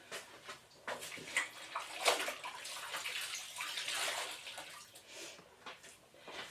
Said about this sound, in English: just need to rinse my cloth